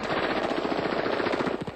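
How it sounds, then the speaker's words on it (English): Rapid bursts of automatic gunfire rattle continuously, a dense stream of sharp cracks that stay steady and fairly loud before tapering slightly at the end. "At one point during her visit, she was caught in a hail of gunfire."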